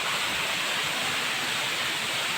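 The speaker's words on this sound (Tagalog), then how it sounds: "Palanas Falls" Palanas Falls pouring in a steady, dense roar of falling water, loud and close with no voices.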